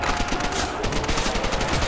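Sustained burst of rapid automatic gunfire from a machine gun in World at War Zombies on the Verruckt map, dense and loud, with no pauses across the short stretch.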